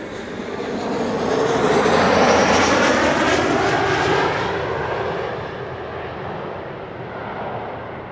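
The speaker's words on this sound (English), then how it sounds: "KLM flight 1352 arriving from Prague in the Czech Republic up next" A KLM airliner arriving from Prague at Amsterdam Schiphol Airport, its loud jet engine roar swelling to a peak and then slowly fading as it passes, heard alone without talk.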